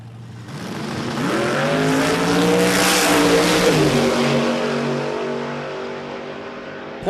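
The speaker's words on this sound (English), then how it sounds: "It was very close off the start line, but the win goes to the dragster" A rear-engine dragster and a Toyota Hilux launch off the start line at an Australian drag strip, their engines roaring loud and revving upward through gear changes before fading away down the track.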